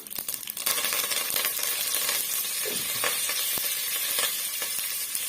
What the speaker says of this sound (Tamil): இது நல்லா வந்து பொறிஞ்சு வரட்டும் பாருங்க நல்லா வந்து பொறிஞ்சு வருது